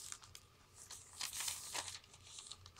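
A glassine paper bag crinkles and rustles close up in several crisp, dry bursts, quiet and alone with no speech.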